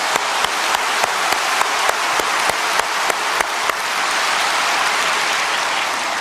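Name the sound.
congregation applauding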